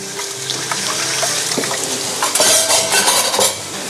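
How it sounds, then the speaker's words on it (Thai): A pork chop sears in a very hot ridged grill pan, giving a loud, steady sizzle and crackle with some clinks of pan and utensils. "กระทะผมร้อนจัดมากผมจะลงหมูละ ลงไปเลย"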